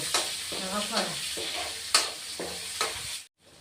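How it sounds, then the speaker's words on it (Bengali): Chopped onions fry in hot tempered oil for a Bengali katla fish curry, a bright sizzle with repeated stirring scrapes and clacks of a spatula against the pan, then the sound cuts off abruptly at the end. "কুচানো পেঁয়াজ দিচ্ছি ফোড়নে এখন ভেজে নেব"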